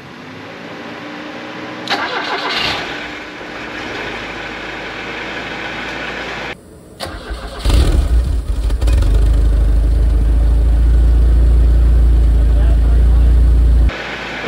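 A car engine cranks with the key and catches, then settles into a steady, loud, low idle that runs on, with a few clicks and shuffling noises early on before the start.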